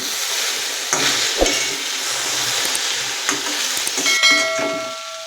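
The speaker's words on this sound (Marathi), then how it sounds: "आता झाकण काढूया भेंडी हलवून घ्यायची आहे" Okra (bhindi) being stirred in a pan over low heat, with a steady soft sizzle and several scraping stirs, a few louder clicks near the end, no talking.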